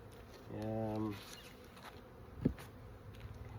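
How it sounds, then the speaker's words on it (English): Honeybees buzz around hive boxes in a low, steady drone, with one bee passing close to make a brief louder hum and a soft knock. "The bees are all over this stuff already."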